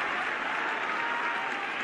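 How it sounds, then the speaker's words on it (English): Dense, continuous applause from a crowd fills the moment at a Japanese exploding barbed wire ropes wrestling match, steady and loud with no pauses. "I had to clap for that one"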